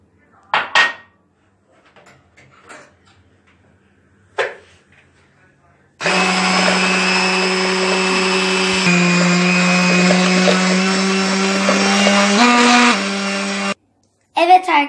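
Sugar being stirred into a banana mole cake batter in a bowl, a steady loud whirring mix of roughly eight seconds after some brief scattered clinks and taps, stopping abruptly near the end.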